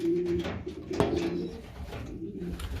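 Pigeons coo softly and repeatedly, low murmuring calls close by with no talking.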